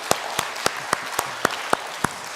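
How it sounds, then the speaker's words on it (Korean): Church congregation claps for the fathers and men's fellowship members at a Sunday service: sharp, evenly spaced claps in a steady rhythm, about four per second, over a low murmuring background. "물론 80세 이하 되신 남선교회 또 아버지 여러분들도 박수를 받아 마땅합니다. 박수 드리겠습니다."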